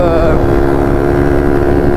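A 150 RXF motorcycle engine idling or running steadily, a loud droning tone with a high whine early on, constant throughout with wind buffeting.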